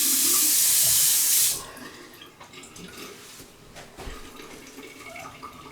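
Faucet water rushes loudly into a sink and down the drain while rinsing during a sink caulking job, then shuts off after about a second and a half, leaving faint drips and small clicks.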